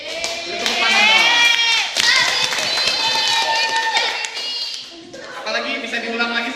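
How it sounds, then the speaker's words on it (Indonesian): An audience in a classroom or hall breaks into a burst of clapping and excited chatter, with children's voices mixed in, fading after a few seconds as talk continues. "Beri tepuk tangan dong."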